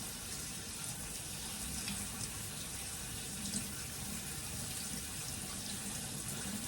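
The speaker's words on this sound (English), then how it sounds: "now what you're going to want to do is to wash the kidney beans in the water" Running tap water rinses kidney beans in a kitchen sink, a steady, fairly quiet splashing stream with no break and no talking.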